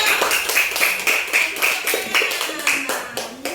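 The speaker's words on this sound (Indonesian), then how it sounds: "ayo anak, semuanya kasih aplaus untuk kelompok 1 ya" Schoolchildren clap for a classroom group in a lively burst of fast, uneven applause that continues for several seconds, with light voices mixed in.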